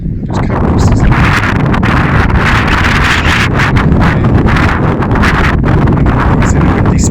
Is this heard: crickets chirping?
no